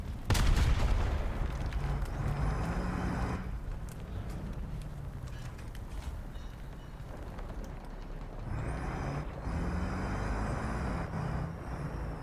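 Tank battle in War Thunder on a Tunisian map: a loud cannon blast opens over a constant rumbling engine and tread drone, with clanking mechanical noise and distant combat rolling on underneath.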